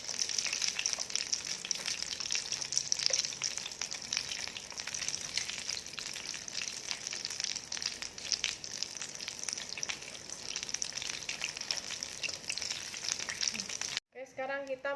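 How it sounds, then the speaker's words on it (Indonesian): Chicken ragout croquettes deep-frying in hot oil, a loud, steady crackling sizzle that runs continuously and close up, with a brief cut near the end. "Sekarang kita menggoreng kue kita yang bentuk kedua ya, bentuk bulat"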